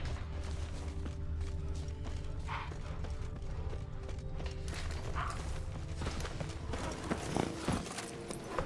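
Horse hooves clip-clopping in The Witcher 3: Wild Hunt, a steady walking rhythm of hoofbeats with creaking tack and mechanical clatter, moderately loud against ambient game sound and no talk.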